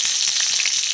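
Cumin and garlic hit hot oil in a kadhai before okra goes in, giving a brief, loud, close sizzle with a faint crackle.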